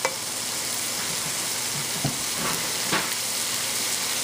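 Food for spinach fried rice fries in a pan with a steady loud sizzle, broken by a few scrapes and stirring knocks, no voices.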